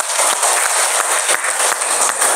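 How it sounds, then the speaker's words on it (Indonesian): Classroom applause during an Islamic studies lesson, a loud, steady wash of clapping filling the whole stretch without pause and with no voices over it. "Tepuk tangan untuk kita semua."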